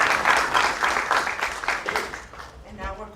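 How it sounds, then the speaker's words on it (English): Workshop audience applauding in a room, a dense burst of clapping that fades toward the end while voices begin to come through. "a round of applause"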